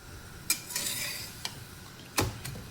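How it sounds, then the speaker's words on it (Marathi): A paratha cooks on a tawa griddle with a faint, steady sizzle, broken by a few sharp clinks and scrapes from a utensil against the pan. "पराठा टाकलेला आहे तव्यामध्ये"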